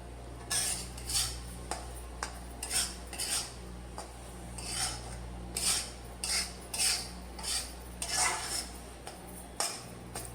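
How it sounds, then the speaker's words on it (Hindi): Ladoo mixture being stirred into flour in a pan, a utensil scraping and clinking against the pan in a steady repeated rhythm, close and fairly loud, with no talking. "तो यहाँ पर मैं इसे अच्छे से इसी तरह से चलाकर मिक्स करती जा रही हूँ।"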